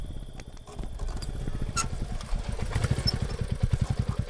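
A motorcycle engine idles and putters with a rhythmic low chug that grows louder and more pulsing as the bike is turned, heard close with no talk over it.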